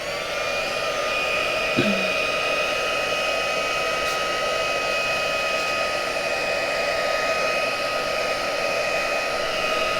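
A small electric craft heat dryer runs steadily and loudly, a constant whirring hiss with a high motor whine and no pauses.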